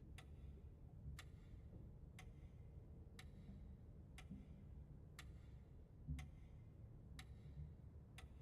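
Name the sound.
clock ticking in Paragnosia II video game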